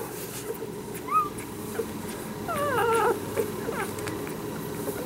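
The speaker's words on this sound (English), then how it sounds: "And this puppy is Gavin." A young red puppy whimpers in a few faint, high, wavering cries, with a brief cluster near the middle, over a low background hum.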